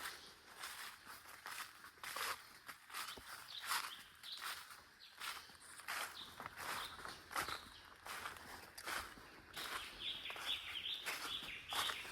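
Birds chirp and tweet steadily in a still, windless outdoor spot, with scattered small calls over soft rustling and footstep-like crunches close by, no talking.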